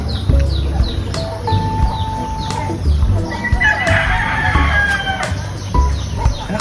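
Roosters crow repeatedly and hens cluck nearby in a loud, busy mix of fowl calls outdoors, with occasional faint voices underneath.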